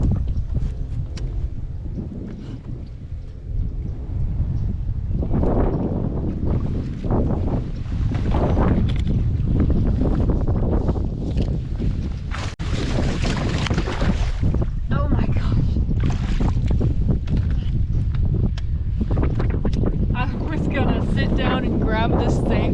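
Strong wind buffets a fishing boat on a lake during a bass tournament, a loud continuous roar and rumble that swells and gusts throughout, with someone talking over it at times.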